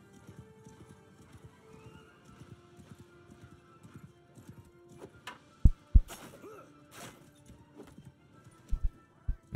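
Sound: horse galloping, from video game Realm of Thrones

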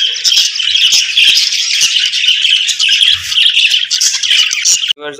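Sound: caged birds squawking and fluttering

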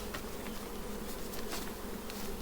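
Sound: honey bee swarm buzzing at the hive

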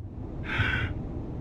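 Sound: hero's heavy breathing inside protective suit helmet, video game

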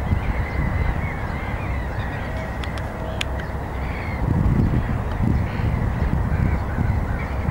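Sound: city birds on beach calling, gulls, ducks, cormorants

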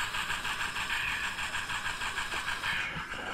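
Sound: model train cars running at a model train show

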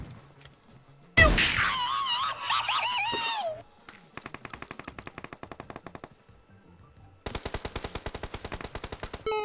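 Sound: shotgun gunfire in the video game PUBG Mobile

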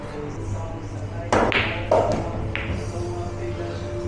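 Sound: pool ball dropping into a pocket with a clunk

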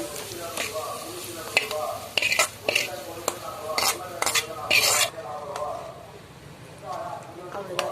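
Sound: frying ingredients in a pan until golden

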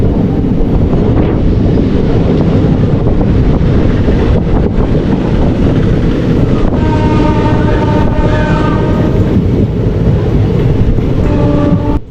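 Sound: moving train approaching Palakkad Town station

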